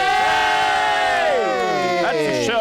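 A studio audience cheers loudly at a comedy show, a sustained roar of many voices with whoops and rising shouts, close and full, continuing without a break.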